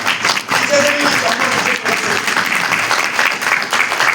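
An audience applauds for a guest, Devendra Rathore, at a recruitment talk; dense, steady clapping fills the whole stretch, with a faint voice or tone briefly audible near the start.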